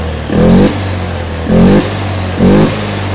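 A Honda scooter engine, an older injected Vario/Beat type with a sputtering fault, revs hard at full throttle three times, each burst rising quickly and then falling back to a close, steady idle.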